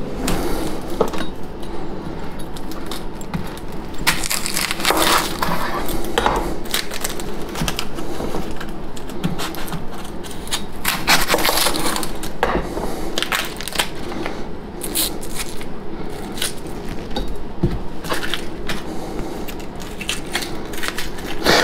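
A knife cuts a vegetable into ring slices on a board for a tomato salad, making steady, close, crunchy chopping strokes with no talking.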